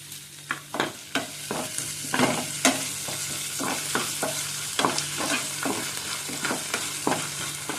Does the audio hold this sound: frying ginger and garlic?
yes